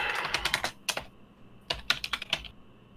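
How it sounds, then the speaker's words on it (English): Fast bursts of typing on a quiet computer keyboard, close and crisp clicking in two quick runs separated by a short pause, no talk. "Is that you using your stealth keyboard again?"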